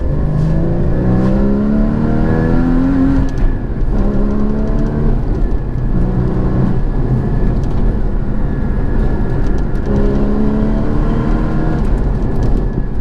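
Porsche Cayman 981 GT4 driven hard, its engine climbing through repeated rising revs and gear changes, loud and close throughout with a steady road roar underneath and nobody speaking.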